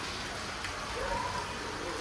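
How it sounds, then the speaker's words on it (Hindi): Continuous rain falls as a soft, steady hiss with faint patter, low and unchanging over the short stretch, with no voices. "कंटिन्यू बारिश हो रही है"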